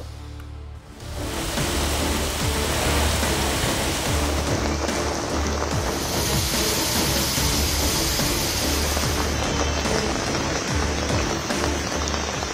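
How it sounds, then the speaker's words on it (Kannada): Heavy rain pours down over Bengaluru, India, in a dense, continuous hiss that starts abruptly and stays loud throughout. "ಬೆಂಗಳೂರಿನ ಹಲವು ಏರಿಯಾಗಳಲ್ಲಿ ಧಾರಾಕಾರ ಮಳೆಯಾಗಿದೆ"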